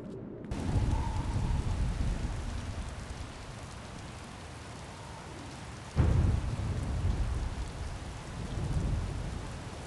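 Steady heavy rain pours throughout a video-game storm scene, with a sharp thunder crack near the middle followed by a rolling rumble, the downpour swelling again afterward.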